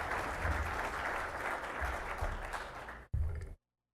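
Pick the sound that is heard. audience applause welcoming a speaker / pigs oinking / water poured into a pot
audience applause welcoming a speaker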